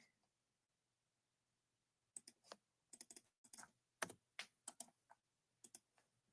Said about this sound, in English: Let me just type in his most common name, Ace Frehley.